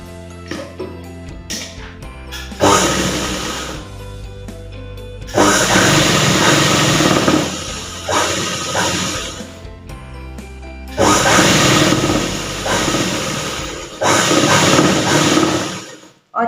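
A sewing machine stitches the folded belt of a top, running in long loud bursts of steady whirring with short pauses between runs.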